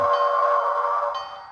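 A model locomotive horn sounds a single sustained tone loudly up close, holding steady before gradually fading.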